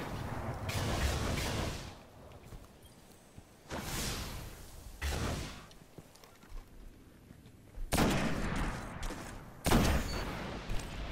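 Gunfire in a video game: repeated bursts of shots and whooshing blasts come in loud, clustered volleys separated by brief lulls, near and prominent, with no talking.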